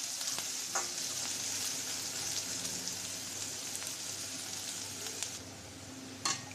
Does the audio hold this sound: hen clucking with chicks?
no